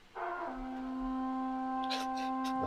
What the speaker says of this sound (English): Maybe a little Viking horn.